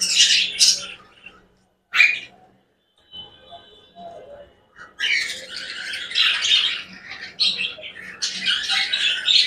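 Young lutino red-eye budgerigars, about four to five months old, squawk and chirp in loud close bursts, with a gap of near silence in the middle before the chatter resumes.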